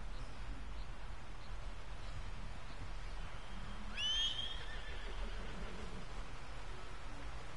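A horse in the video game Red Dead Redemption 2 gives a single clear whinny about halfway through, rising and quavering over a steady wash of ambient game noise with no speech.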